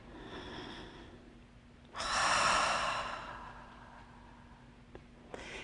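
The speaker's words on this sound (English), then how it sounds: "try that breathing" Deep breathing exercise done while seated in a chair during a fitness routine: a soft breath, then a long, loud, airy exhale, followed by quieter breathing, close and alone.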